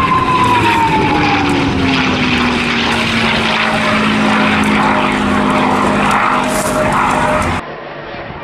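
P-51D Mustang with a Rolls-Royce engine flying past, a loud propeller drone whose pitch falls steadily as it passes and moves away before the sound cuts off abruptly.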